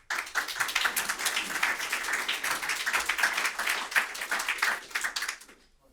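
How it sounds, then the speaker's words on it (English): An audience applauds as presenters are welcomed on stage at a talk on fraudsters and bots. Many hands clap in a lively, sustained burst that swells, holds, then fades to quiet at the end. "Give them a round of applause."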